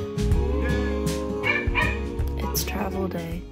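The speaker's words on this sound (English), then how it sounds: "The dogs are screaming." Dogs bark and whine nearby, loud and continuous, high-pitched yelps and whimpers overlapping one another.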